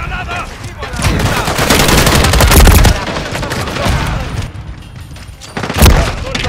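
Rapid bursts of automatic gunfire and booming shots fill a Call of Duty MW3 battle, loud and near, with shouted game voices briefly under the shooting.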